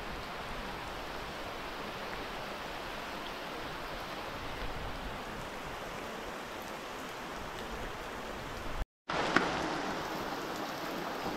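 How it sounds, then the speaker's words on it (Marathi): Heavy monsoon rain pours steadily in the Konkan countryside in June, a dense, even hiss of drops on surfaces that runs unbroken except for one brief dropout near the end, with no voices. "कोकणात पाऊस चालू"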